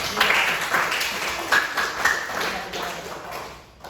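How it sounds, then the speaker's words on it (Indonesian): A class of students claps together in a steady burst of applause that continues for a few seconds, fairly close and even in loudness. "Tepuk tangan"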